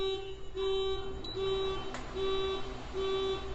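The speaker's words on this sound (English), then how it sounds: "So sorry for the alarm system that is going off outside." A repeating electronic alarm tone sounds in regular pulses about every half second or so, steady and mid-distance, with low rumbling background noise.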